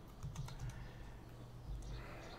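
Keys clatter on a computer keyboard in a quiet room, a short, soft burst of irregular clicks with brief pauses between them.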